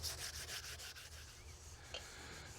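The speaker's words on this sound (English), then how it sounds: "use water and 600 grit sandpaper and wet the surface pretty liberally and sand it down" Wet sanding with 600 grit sandpaper on primer on a '29 Ford Roadster rat rod makes a rapid, rhythmic rubbing scrape, close and steady back-and-forth strokes throughout.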